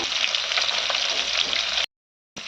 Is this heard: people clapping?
no